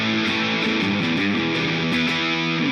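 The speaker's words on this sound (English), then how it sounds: "Pretty good warm distortion." Electric guitar driven through a warm distortion pedal, a loud sustained crunchy riff of chords and notes played continuously before cutting off abruptly at the end.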